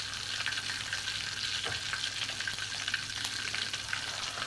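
Meat pieces for kebab deep-fry in hot oil with a steady, dense sizzle and crackle that keeps going throughout, close up and with no talk.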